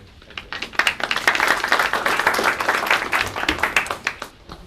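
An audience claps and applauds to welcome a speaker to the podium, a dense, steady burst of many hands that swells and then tapers off over several seconds.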